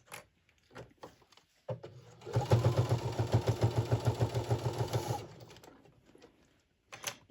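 A sewing machine stitching in the ditch of a Christmas mug rug with binding, a close rhythmic burst of steady stitches for a few seconds between quiet handling noises.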